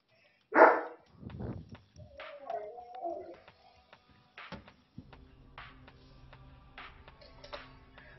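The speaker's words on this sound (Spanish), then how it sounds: "Está cantando uno de mis perros ahí." A dog barks once loudly and close, then gives softer yips and a drawn-out whining howl, followed by quieter scattered barks over a low steady hum.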